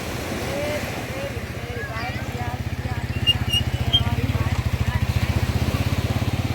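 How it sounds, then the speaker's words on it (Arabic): A boat motor chugs in a steady, rapid throb on the sea at a summer beach, growing louder and closer with wind noise, while people talk over it. "قارب."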